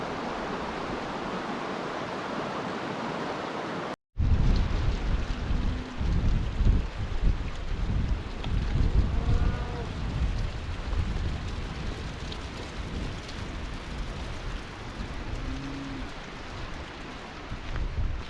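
Wind gusts at a riverside winter camp in damp weather, a loud broadband roar buffeting close to the microphone, with a brief dropout partway through and no talking.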